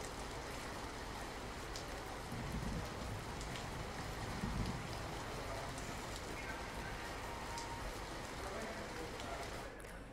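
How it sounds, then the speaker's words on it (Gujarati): Steady rain falls throughout in Surat, a dense even hiss of drops on surfaces that swells slightly midway, with no voices. "સુરતમાં વહેલી સવારથી સાર્વત્રિક વરસાદ શરૂ થયો હતો"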